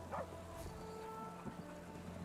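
A dog in the video game No Rest for the Wicked gives a short, faint bark early on, quiet and set back among soft ambient game sounds.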